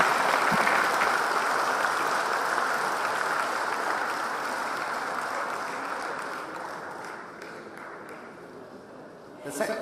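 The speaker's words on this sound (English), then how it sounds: "So we should all give him a great applause" Audience at a plenary congress session on cities applauds after a talk, steady broad clapping filling the hall for nearly ten seconds and slowly thinning toward the end, with some voices mixed in.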